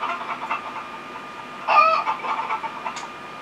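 Chicken clucking in The Sims 3 University Life: steady game-animal clucks with a louder burst of squawking midway, up close against a constant background hum.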